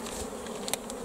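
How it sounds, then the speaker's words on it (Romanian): Honeybees buzz steadily at a hive after three days shut in, a continuous close hum with a few brief louder passes of single bees near the end. "Deci albina a stat 3 zile închisă până acum, iată a ieșit și se mișcă destul de frumos."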